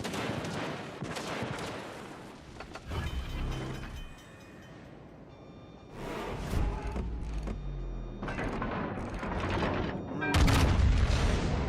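Naval guns fire HE shells in World of Warships Legends. Several heavy salvos boom out, each with a deep rolling blast and a rumbling tail, separated by quieter stretches of battle noise.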